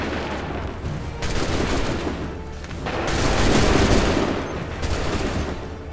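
Musket volleys in Assassin's Creed III, heavy crackling bursts of many guns firing together in several waves, loud and close, with a continuous rumble of battle between them.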